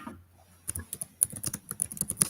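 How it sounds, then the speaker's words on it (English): Loud typing on a computer keyboard picked up by a live stream microphone: sharp, close, irregular key clacks in quick bursts after a brief quiet start. "Someone's typing very loud."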